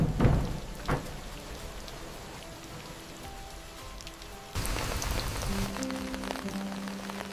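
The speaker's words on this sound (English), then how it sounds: "Rain, the forest applause." Rain falls steadily through Panama rainforest, a dense hiss of drops on leaves with a few louder splats early and a heavier wash after the midpoint, no voices.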